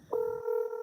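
Telephone keypad dialing tones, a single steady two-tone beep held loud and clear for most of the moment, with faint low rumble fading out beneath it.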